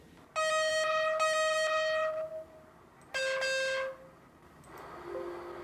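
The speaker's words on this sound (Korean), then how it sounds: "요 차가 빵빵거리는 거죠, 요 차." Two long horn blasts sound from a car on a highway, the first held about two seconds and the second shorter, each loud and tonal against a faint bed of road traffic.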